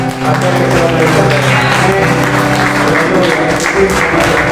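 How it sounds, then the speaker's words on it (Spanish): Strong applause from a church congregation at a Sunday service, dense and sustained at steady loudness throughout, with tonal music or singing running underneath. "un aplauso fuerte, fuerte"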